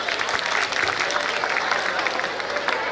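Audience applause at an interview event, a steady dense wash of clapping that fills the whole stretch at an even, moderately loud level with no voices over it.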